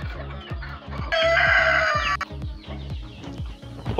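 Free-range Roadrunner chickens crowing and clucking up close, with a loud sustained rooster crow in the middle and repeated clucks and calls throughout.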